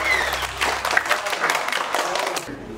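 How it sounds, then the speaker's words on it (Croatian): Applause for a girl named Arija at her seventh birthday party, a burst of clapping from a crowd of guests that runs for a few seconds at steady strength. "Momci i devojke, molim vas jedan aplauz za Ariju."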